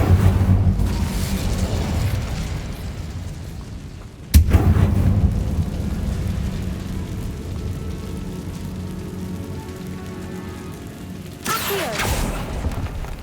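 In Hogwarts Legacy, an Incendio fire spell is cast inside a tomb, giving a loud, sudden blast that settles into a sustained roaring rumble, with a second surge near the end.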